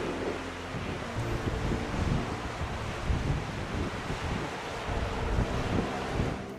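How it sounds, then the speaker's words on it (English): Strong tidal bore current surging up a shallow, funnel-shaped river arm, heard as a steady loud rush of churning water under heavy wind buffeting on the microphone, with no voices. "here we can see the strong current entering the turn-again"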